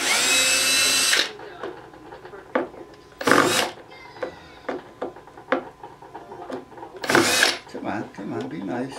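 A drill gun drives screws into a shelf being built for a safe, giving three loud whirring bursts separated by quieter gaps filled with talk and handling clicks.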